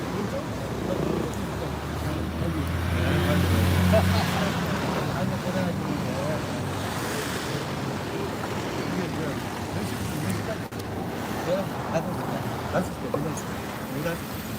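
A loud vehicle rumbles outdoors in front of the presidential office during a one-person protest. The steady, heavy drone fills the whole stretch while people talk over it.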